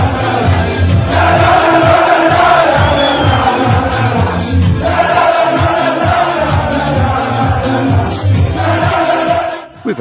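Crowd noise at an FA Vase second round qualifying football match between Hamworthy Recreation and Bournemouth FC, a steady, loud wash of chatter and shouts from a fairly decent local stadium crowd, with occasional cheers and whoops rising over it.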